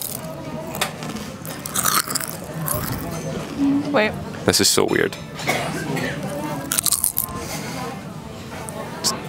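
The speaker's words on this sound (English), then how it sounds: "it's a satisfying, it's a very satisfying crunch" Crunchy food bitten and chewed close to the mouth, with several crisp crunches scattered among a person's speech.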